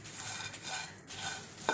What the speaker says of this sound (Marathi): आता मी यामध्ये भाजून घेतलेले शेंगदाणे देखील घालणार आहे. हे पण आपल्याला थोडेसे परतून घ्यायचे आहेत.